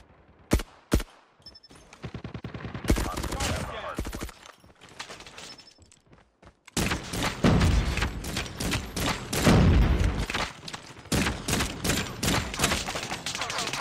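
Groza assault rifle fire in a ranked video game match: a few sharp isolated shots, then long rapid automatic bursts, loud and close, with a voice talking over parts of it.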